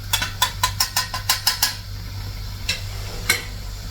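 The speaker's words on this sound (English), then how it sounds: "So I'm going to add some coconut milk and mix." Spoon knocking against a pot while coconut milk is stirred into rice: a quick run of about nine rhythmic clinks, then two more spaced knocks, over a steady low hum.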